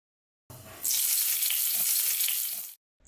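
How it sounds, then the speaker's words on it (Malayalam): Mustard seeds, dried chillies and curry leaves fried in hot coconut oil, a sudden loud burst of crackling sizzle that holds for about two seconds before cutting off, close by. "പാനിൽ കുറച്ച് വെളിച്ചെണ്ണ ചൂടാക്കി കടുക് ചേർത്ത് പൊട്ടിക്കാം ഇതിലേക്ക് കുറച്ച് ഉണക്കമുളകും കറിവേപ്പിലയും കൂടി ചേർത്ത് മൂപ്പിച്ചിട്ട്"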